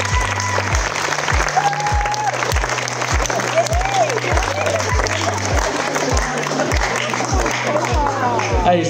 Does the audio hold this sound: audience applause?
yes